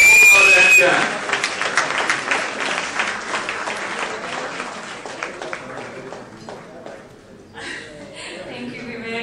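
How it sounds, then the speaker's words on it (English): An audience at a charity gala for cancer patients bursts into loud, dense applause and cheering, which fades to scattered clapping as a voice speaks over it. "a round of applause to Vivek Oberoi"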